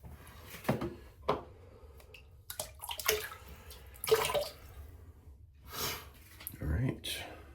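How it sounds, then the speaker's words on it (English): Water splashes and runs over a puck of Voyager shave soap by HAGS to wet it before lathering, coming in several close, uneven bursts separated by short pauses. "I'm gonna get the soap a little wet here."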